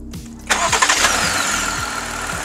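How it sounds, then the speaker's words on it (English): A Jeep Gladiator pickup cranks briefly, then its engine fires with a sharp burst and settles into a steady, fairly loud idle nearby, with no voices. "The sound of the vehicle. It sounds amazing. And let's start it up."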